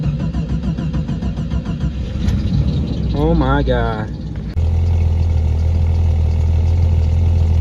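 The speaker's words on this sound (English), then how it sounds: "let's see how that cold start sounds like" A 1987 Jeep Cherokee engine, unstarted for two days, cranks over on a cold start and settles into a loud, steady, low idle, with a brief excited exclamation from a person just before it catches.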